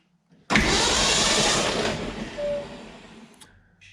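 A 1966 Ford Bronco engine cranking on its starter without firing, a sudden loud, steady churning whir that fades slightly and then stops, close to the microphone.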